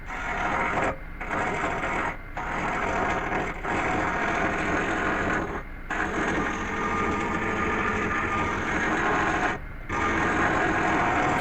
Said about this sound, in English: And I begin turning.